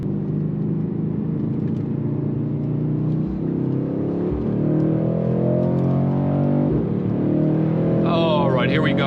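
A 2018 Mercedes-AMG C63 S engine accelerating, its rising throaty growl climbing steadily through the gears, loud and close with people talking over it.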